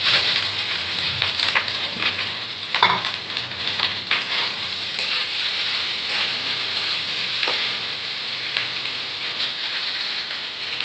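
Potatoes and rice fry in a pan for a breakfast dish, giving a steady, dense sizzle with occasional scraping stirs and crackles throughout, close and continuous with no talking.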